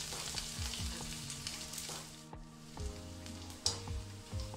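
Chopped green chillies fry in a pan and are stirred while cooking an irumban puli pulinji. A close, steady sizzle carries on throughout, with light stirring scrapes and a brief dip in the middle.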